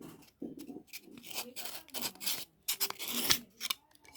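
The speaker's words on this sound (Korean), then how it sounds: "그리고 이건 사포고요." Rough, rhythmic rasping strokes, close up, in short bursts with brief pauses, like sandpaper rubbed back and forth over wood.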